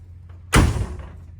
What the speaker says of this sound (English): Boom, she shuts. No more having to lift up on the door to close it.